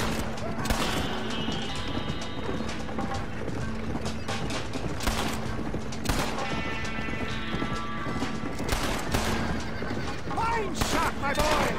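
Gunfire in the Red Dead Redemption video game, brief shots mixed with clip-clopping horse hooves, whinnies and background speech across a busy, continuous soundscape.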